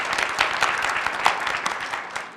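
Symposium audience claps for Katrin in a moderately sized, uneven burst of individual hand claps that rises and falls over a couple of seconds, with no speech on top.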